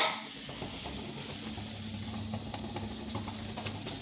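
Boiled macaroni being stirred into cooked chicken in a hot pan, with a steady close sizzle and scraping stirring strokes throughout, no voices.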